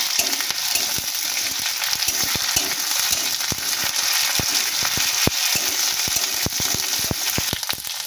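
Onion and garlic paste fry in oil for a pointed gourd bhujia, producing a steady close sizzle with a rapid, irregular series of sharp spatula clicks and scrapes against the pan throughout, no talking.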